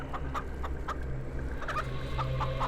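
Chickens cluck in a farm coop in Florida, with a run of short, repeated clucks from several birds over a low steady background hum, fairly close and with no talking.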